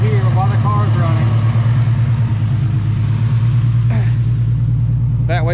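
Nissan 350Z engine idling while a torch heats its header, a loud steady low rumble close by, with someone talking over it.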